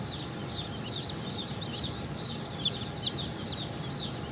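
Cream Legbar chickens cluck and chirp in a hatchery pen, soft repeated calls over a constant low background hum, moderately near and fairly quiet, with no talking.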